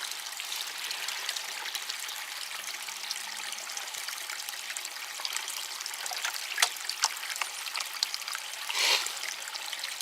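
Cold running water trickles and splashes steadily while black sand is panned for gold at an old North Carolina gold mine, a close, continuous babble with a few louder splashes and no talking.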